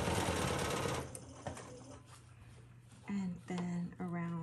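A sewing machine quilts an arc on a quilt block, first a steady loud run of rapid stitching, then a pause, then short stitching bursts with a voice talking over it.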